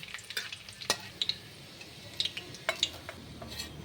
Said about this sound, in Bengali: কিছুটা কিশমিশ ভেজে নিচ্ছি